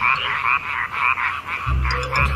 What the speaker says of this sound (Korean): 저 사이즈가 큰 개구리인데,